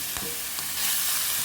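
Garlic, pimento and onion seasoning sautés in coconut curry for red snapper, a loud close sizzle with a spatula scraping and stirring, a few scrape strokes standing out before the frying swells and thickens, no voices.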